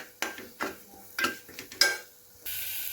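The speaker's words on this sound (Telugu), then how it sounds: "ఆనియన్ పేస్ట్ వేసి కలుపుకుందాం. బాగా కలుపుకోండి." Spoon scraping and clanking against a pan while onion paste is mixed in with green chillies and curry leaves, several separate strokes with a soft sizzle, ending in a steady hiss.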